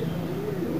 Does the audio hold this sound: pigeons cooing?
yes